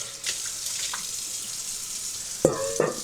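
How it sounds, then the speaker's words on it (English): Water runs steadily from a kitchen tap as a bowl that held blackberries is rinsed out, a broad continuous splashing hiss with a couple of sharper knocks of the bowl near the end. "Use your same bowl too, you can rinse that out."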